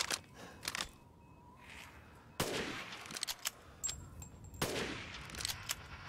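Rifle shots ring out in the Resident Evil 8 video game, several sharp, loud cracks spaced a second or two apart, with fainter clatter between them.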